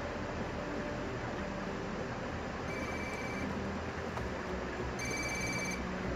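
A phone rings in the video game Ghost Recon Wildlands, two short electronic ring bursts heard faintly over a constant loud noisy background.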